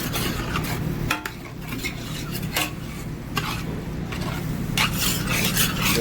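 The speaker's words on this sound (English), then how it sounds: "stir those in until well incorporated and have absorbed the majority of the juices" Panko breadcrumbs being stirred into the pan juices of a chorizo-stuffed pork loin: repeated scraping and clinking of a utensil against the pan over a low sizzle, close and steady, with no voices.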